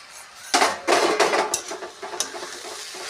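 A metal lid goes onto a cooking pan of mixed leafy greens with a few sharp, close clanks and rattles. Softer scrapes and knocks fade away after the clatter.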